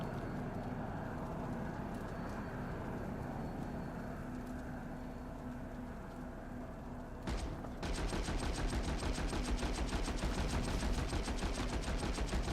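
PlanetSide 2 battle gunfire in a Server Smash match: dense, rapid automatic fire that starts abruptly partway through and continues as a loud crackling stream over an earlier busy background, with no speech.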